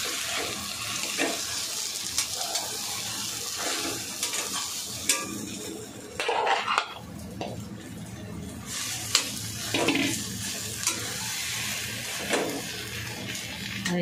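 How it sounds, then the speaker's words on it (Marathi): A potato and pea paratha filling gets stirred in a pan, with scraping, scuffing spoon strokes and occasional louder knocks over a steady hiss, continuing for about fourteen seconds without speech. "आता हे आपण चांगलं मिक्स करायचं."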